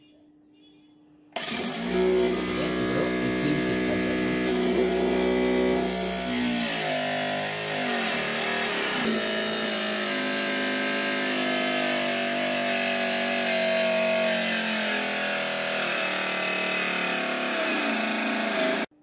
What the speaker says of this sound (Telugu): ఇప్పుడైతే ఈ పీవీసీ షీట్ అయితే ఉన్నది కదా, కట్ చేసి చూద్దాం.